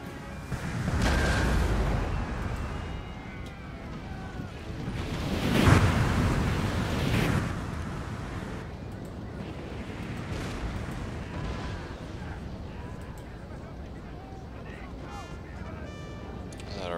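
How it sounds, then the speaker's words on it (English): Artillery booms roll out in the Napoleonic-era strategy game Napoleon Total War, several deep rumbling blasts with the loudest near the middle, heard amid battlefield ambience while someone talks. "Start opening fire, good gentlemen."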